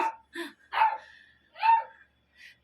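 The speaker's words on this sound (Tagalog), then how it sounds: "Pasensya na yung aso ko," A pet dog barks repeatedly nearby, about five or six sharp, separate barks spaced irregularly, with short quiet gaps between them and no other sounds.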